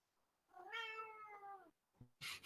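A cat gives one drawn-out, clear meow close to the microphone in a quiet room, followed a moment later by a short burst of rustling noise.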